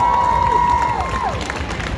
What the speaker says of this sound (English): we got to give a round of applause to all the inkers here today